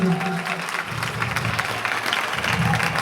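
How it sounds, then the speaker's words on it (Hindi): A college freshers' event crowd in Dhamnod claps loudly and steadily, a thick continuous roar of hands close by with scattered voices underneath. "एक बार जोरदार तालियां बजा दीजिए"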